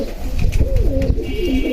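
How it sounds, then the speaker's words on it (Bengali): An old-breed pigeon, a long-necked black bird with silver markings, coos close by in a loud, throaty rolling call that rises and falls over a couple of seconds. "পুরান জাতের কবুতরের চেহারা দেখেন।"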